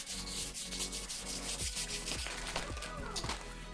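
Paint on a quad bike part is lightly rubbed back by hand, producing a continuous close abrasive scuffing with repeated back-and-forth strokes at a steady rhythm, without speech.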